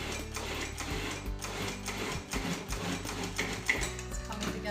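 Food processor blade whirring through fresh arugula pasta dough with two whole eggs and two yolks, a steady close mechanical drone with small surges as the dough begins to come together.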